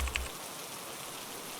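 Steady rain falls in a soft, even hiss, a constant wash of drops on surfaces with no voices.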